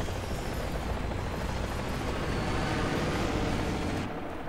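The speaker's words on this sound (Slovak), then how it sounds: "Nejaká helikoptéra." Helicopter in a War Thunder tank battle, a dense, steady rumbling roar heard close and loud for a few seconds before easing slightly at the end.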